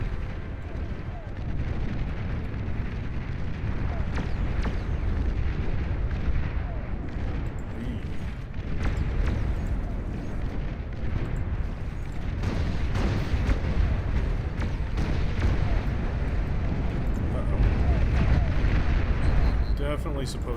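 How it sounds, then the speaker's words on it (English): In a battle of the strategy game Beyond All Reason, long-range plasma cannon fire booms again and again through a dense, continuous roar of explosions and artillery, loud and relentless throughout. "Long-range plasma cannon detected."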